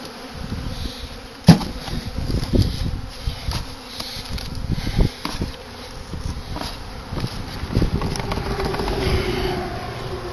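A swarm of honeybees pours out of a hive box, a dense, steady buzzing hum of many insects close by, with a sharp knock near the start and occasional thumps beneath the drone.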